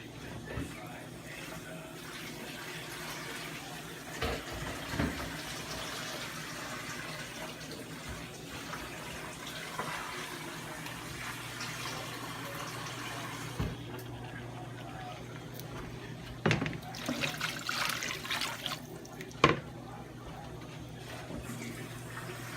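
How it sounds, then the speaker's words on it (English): Water runs into a pot of Jamaican cow foot on a stove, a continuous pouring splash with a few louder gushes and knocks, while a voice speaks faintly in the background. "So I'm going to add water to it."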